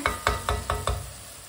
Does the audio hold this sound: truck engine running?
no